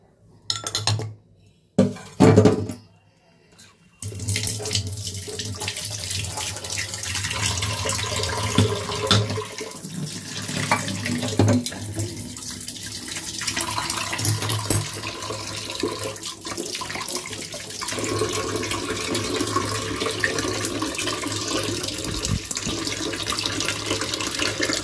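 A kitchen tap runs steadily into a bowl being left to soak after coffee-making, with a few clinks of crockery at the start and then a continuous close gush of water, no talking.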